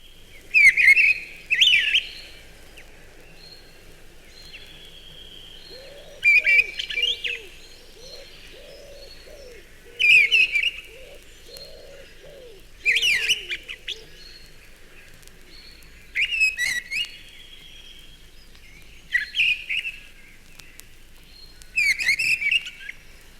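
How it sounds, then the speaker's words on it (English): A mistle thrush sings from a tall tree canopy, giving loud, clear phrases in regular bursts every few seconds, with a softer cooing bird calling in between and quiet background. "The full song of the mistle thrush is a wild one, coming down from the canopy of some tall elm or plane tree."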